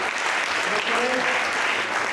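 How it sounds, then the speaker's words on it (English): Steady applause from an audience at a children's tennis demonstration at the National Tennis Centre, dense clapping throughout with a faint voice briefly audible underneath. "Give us a big round of applause."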